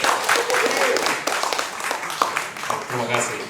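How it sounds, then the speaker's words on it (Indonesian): An audience at a live discussion among 1998 student activists applauds a guest, giving a dense patter of clapping that runs under a speaking voice throughout. "tepuk tangan untuk Bang Dom."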